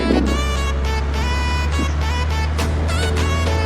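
A car driving in the video game GTA San Andreas, with a steady engine drone holding through the clip and a few tonal shifts. No one speaks.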